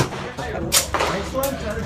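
Two sharp, cracking shots from a double-action handgun ring out at an outdoor range, about a second apart, amid excited voices.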